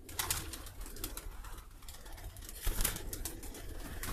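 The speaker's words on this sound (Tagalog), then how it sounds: "Daming kalapati, oh." Soft pigeon cooing repeats among a busy outdoor hiss near a swimming pool in Saham, Oman, with a few faint chirps and a dull thump partway through.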